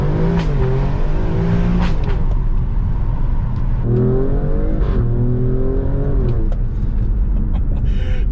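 An Alfa Romeo Stelvio Quadrifoglio engine revs hard, climbing in pitch, dropping at each gear shift, then climbing again, loud and close from start to finish.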